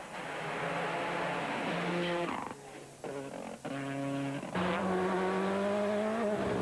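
A rally car's engine revs and whines up and down loudly at the 2004 Monaghan Stages Rally, with tire noise and wheels locking, brief drops as it brakes and accelerates through tight, narrow turns.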